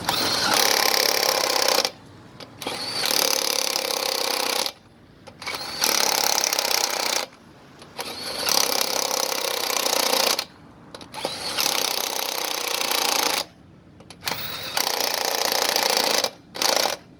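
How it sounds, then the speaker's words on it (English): A battery impact wrench, running weak on a tired battery, spins lug nuts on a Chevy Silverado wheel in about six loud, close bursts of a second or two each, separated by short pauses. "I can hear my impact sounding kind of weak."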